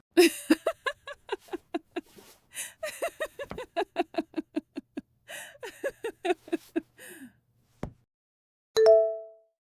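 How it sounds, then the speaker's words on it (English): A short bright electronic ding sounds once at the end, after a stretch of rapid clicking taps. "your phone just went off"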